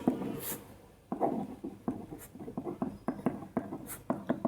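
Pen scratching across paper while an answer is written out during a Class 10 maths lesson on linear equations, a run of short, close strokes of varying loudness with no talk.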